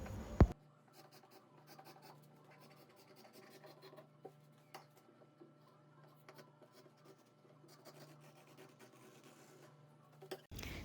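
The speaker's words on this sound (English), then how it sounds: "Then I will start cutting from the neckline." Scissors cutting fabric from the neckline of a shirt bodice, making faint, soft scratchy snips and rustles at close range, with a louder thump at the start and end.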